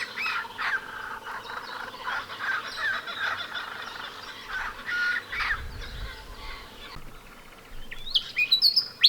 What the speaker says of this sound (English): this juvenile, trying its best with its immature voice to imitate the adults